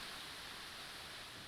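A steady, full rush of flowing water fills the scene in a Minecraft game, a constant hiss with no breaks.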